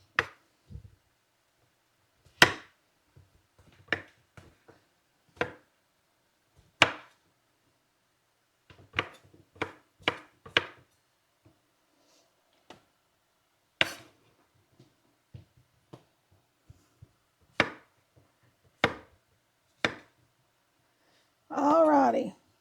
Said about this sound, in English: Cut them 3 ways and then cut them 2 or 3 more ways.